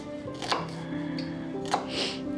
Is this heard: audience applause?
no